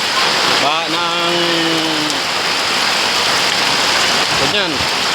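Heavy rain pouring down during a typhoon with flooding, a loud, dense, constant wash of water close by, with a voice briefly speaking over it.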